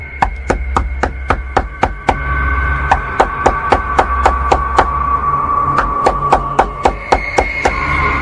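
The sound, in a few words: knocking on a door, sound effect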